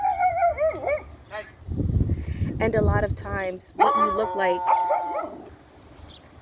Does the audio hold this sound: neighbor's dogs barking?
yes